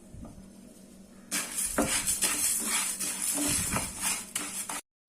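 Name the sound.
roasting split black urad dal in a pan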